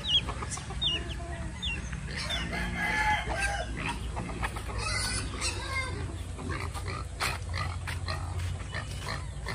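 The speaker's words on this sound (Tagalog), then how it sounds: "Sobrang ingay na po ng ating mga baboy guys." Farm pigs squeal and grunt in bursts, close and noisy, amid chicken-like clucks and calls, with a steady low hum underneath.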